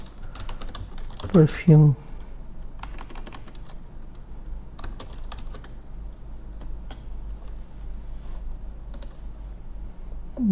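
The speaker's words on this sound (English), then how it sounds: "So I type this, copy paste" Clicks of a computer keyboard as someone types a short text prompt and copies and pastes it, irregular taps running through most of the stretch at close range, with a brief spoken word early on and low room noise underneath.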